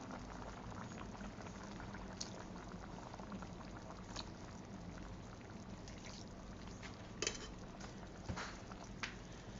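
Isan-style catfish curry with pickled bamboo shoots boiling in a pot, a continuous bubbling roil with occasional clinks of a utensil against the pot, fairly quiet and steady with no talk.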